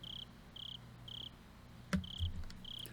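Crickets chirp at night in the visual novel Higurashi, short regular trills repeating about every half second over a quiet low hum, broken once by a brief knock-like thud.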